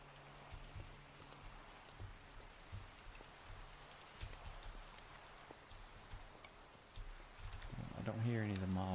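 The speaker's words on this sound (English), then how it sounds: "Alright, it's a nice rainy day." Steady rain falls in Minecraft as a soft continuous hiss with faint scattered patter, while a voice talks quietly over it and a louder tonal sound rises near the end.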